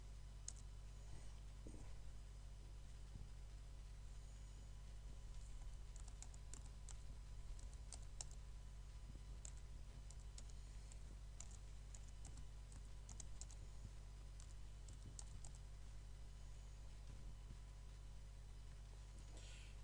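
Someone types an email address on a computer keyboard, a long run of quiet, close, irregular key clicks with short pauses, over a faint steady hum and no speech.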